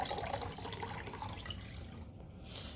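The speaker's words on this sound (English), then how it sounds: "I'm gonna pour this into the glass here without trying to spill any." Brewed coffee, close to 16 ounces, is poured into a glass as a steady, close liquid stream that flows continuously and softens slightly toward the end, with no talking.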